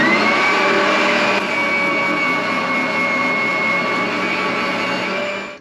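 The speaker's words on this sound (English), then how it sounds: "So we want to minimize the amount of wood that actually has to be eaten away by the router bit." A router bit cutting wood while a guitar mold is made, giving a loud, continuous high-pitched whine that holds steady for several seconds before tapering off at the end.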